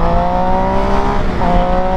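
A Yamaha MT motorcycle engine drones steadily and loudly as the bike pulls away, with no talking.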